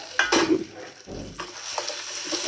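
Previously fried potatoes tipped into a pan for Bengali-style aloo, with a sizzle of frying and scraping, clattering stirring against the pan, loud and close with no talking.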